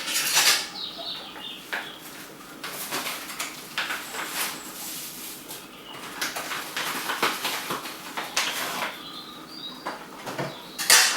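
Hops stirred into hot wort in a Grainfather brewer, with irregular metallic scrapes and clinks of a spoon against the vessel, close and moderately loud, with no speech.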